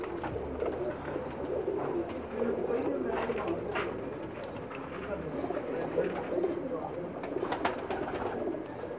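Pakistani pigeons cooing on a rooftop in Jeddah, a continuous low murmur of overlapping coos close by, with someone talking over the birds throughout.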